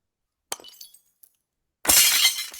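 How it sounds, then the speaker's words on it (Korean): An AI-generated drinking glass shatters in one bright, sharp burst of breaking shards, preceded by a few faint clinks and ticks in near silence. "이 유리잔이 깨지는 소리를 이렇게 생성을 한번 해보시면"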